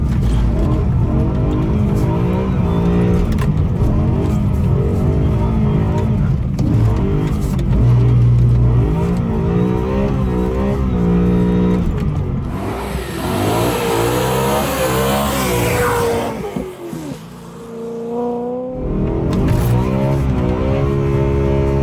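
An S65 V8 swapped into a BMW 1M Coupe roars loudly up close while driving in snow, with repeated high revs climbing and falling and a brief lift-off near the end before pulling again.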